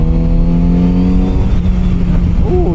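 Kawasaki motorcycle engine revving steadily on a road through Joshua Tree National Park, then a quick-shifter gear change cuts the tone and a new rising rev climbs, loud and close with wind rush throughout.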